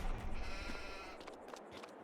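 Sheep bleating in a farming simulation game, a short, fairly faint bleat over steady background noise.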